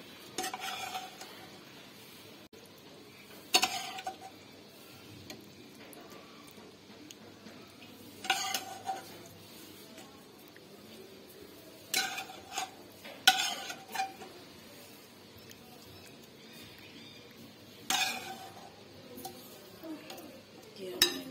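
Cooked potato and eggplant sabzi is scooped from the pan into a serving dish, giving faint, sparse clinks and scrapes of a spoon against metal and dishware in a quiet kitchen.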